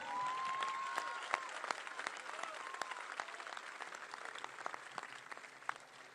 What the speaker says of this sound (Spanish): Fuerte el aplauso para la compañera Nilda Garré